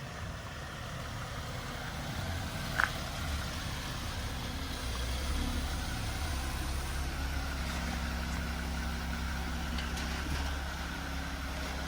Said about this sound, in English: the Rubicon just pulled in